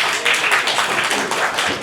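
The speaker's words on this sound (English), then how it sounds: "Let's give them a final round of applause." Applause from an audience at the Gusto Pinoy Award 2023 finalists' presentation, a short, loud burst of steady clapping from a crowd.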